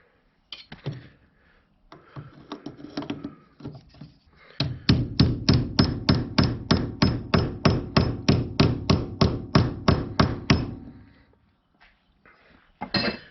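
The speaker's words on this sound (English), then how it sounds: "give it a couple raps with the hammer" A hammer raps on metal of a 2005 Ford Explorer rear liftgate latch: a few scattered taps, then a fast steady run of about twenty sharp, ringing blows, followed by a couple more strikes.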